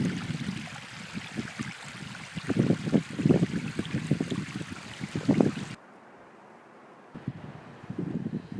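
A glacial creek near Exit Glacier, Alaska, rushes and splashes steadily at moderate volume, with wind noise, cutting out briefly and returning.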